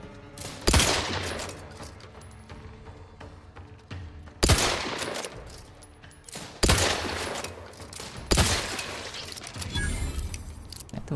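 Gunfire in The Outer Worlds 2, played on hardest difficulty, with four loud, sharp blasts spaced a couple of seconds apart, each followed by a rumbling tail over a dense, noisy background of combat.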